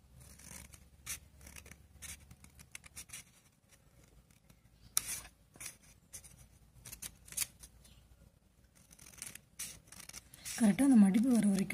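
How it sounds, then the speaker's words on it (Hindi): Scissors snip through folded paper while a paper fish is being cut out, making short, crisp cuts in irregular bursts close up, with a voice speaking over the last stretch. "கரெக்டா அந்த மடிப்பு வர வரைக்கும் கட் பண்ணுங்க"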